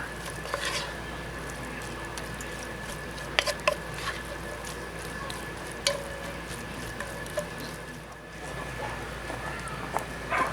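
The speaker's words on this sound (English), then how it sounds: "Give it another quick stir." A spoon stirs a beef, rice and zucchini stew in a Dutch oven over an outdoor wood fire, with soft sizzling under scattered scraping clicks, close and moderate in level.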